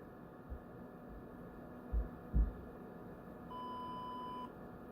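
A few low thumps, then a single steady electronic beep lasting about a second over a faint background hum.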